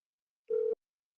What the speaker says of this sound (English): It rings one time and then it goes straight to voicemail.